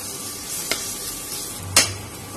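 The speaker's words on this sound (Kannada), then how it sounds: "ಇನ್ನಿದಕ್ಕೆ ಬೇವಿನ ಸೊಪ್ಪು ಮತ್ತು ಕಟ್ ಮಾಡಿಟ್ಕೊಂಡಂತ ಹಸಿಮೆಣಸಿನಕಾಯಿ ಹಾಕೊಳ್ಳೋಣ." Curry leaves and chopped green chillies are added to hot oil for a brinjal curry, giving a soft steady sizzle with two sharp stirring clicks close by, the second louder, and no talking.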